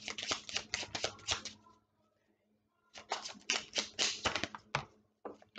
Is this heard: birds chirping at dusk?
no